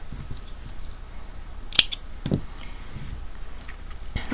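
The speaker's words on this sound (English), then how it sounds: "So I'm just going to cut it off here." Scissors snip through crochet yarn while a granny square is finished, one crisp cut with a faint follow-up click over quiet room hiss.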